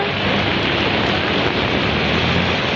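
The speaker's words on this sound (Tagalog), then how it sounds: "Lakas ng ulan. Baha na dun sa kabila." Heavy rain pours down steadily during a downpour that is flooding the street nearby, forming a loud, unbroken hiss with no pauses and no voices.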